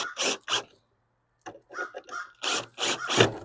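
Screws are driven into a wooden board for a vertical garden planter, giving a series of close, gritty rasping and creaking bursts in an uneven rhythm, with a short pause and a light tap partway through.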